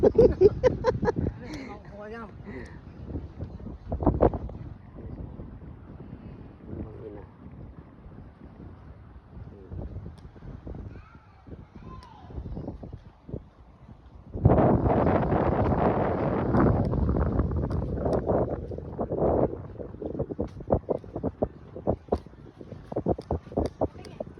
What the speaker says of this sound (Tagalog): Sarap na mahangin dito.